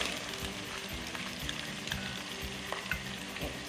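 Beans sizzle and fry steadily in a hot pan while making a curry cod dish, with a continuous close crackle and occasional small pops and stirring scrapes throughout.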